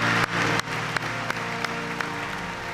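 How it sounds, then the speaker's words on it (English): Applause at a university graduation ceremony, a sustained crowd clapping in a large hall, fairly loud at first and then easing slightly, with a few sharp knocks punctuating it. "You all deserve a huge round of applause."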